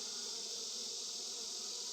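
Honeybees filling just over three deep hive boxes buzz during an open-hive inspection, a dense continuous hum of many bees, loud and close, with no voices.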